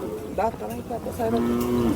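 A Mysore racing bull at a cattle market lows in several short, rising moos that run into one longer drawn-out call, heard close amid light background activity.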